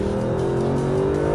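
A Mercedes SLS AMG Black Series revs hard on a race track, the engine note a steady loud, close drone with no speech.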